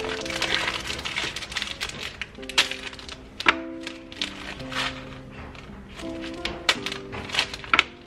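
A knife chops through a slab of chocolate into chunks, giving sharp, brittle cracks and thunks at an irregular pace. Soft background music plays beneath the cuts.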